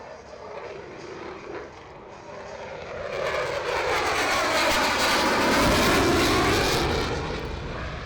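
An F-22 fighter jet at an air show roars overhead, its broad engine rumble swelling louder midway and then easing slightly, heard alone without talk.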